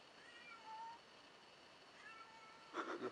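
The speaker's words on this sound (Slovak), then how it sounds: "Kocúrťa." A kitten meows several times, thin and plaintive cries rising and falling, with a louder cluster of mewing near the end against a faint background hiss.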